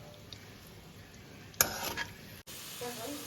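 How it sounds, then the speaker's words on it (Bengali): Potatoes are stirred and fried in a pan with a soft steady sizzle, then a sharp spatula scrape and clatter, followed by a brief cut and renewed frying. "এই যে আলুটা হালকা ভাজা হয়ে গেছে"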